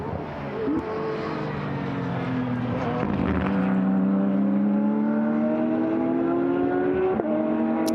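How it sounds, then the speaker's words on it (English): A Porsche GT race car accelerates uphill during qualifying for the Kyalami 9 Hour, its loud engine note climbing steadily through the gears as it passes close by. "So Porsche accelerates uphill"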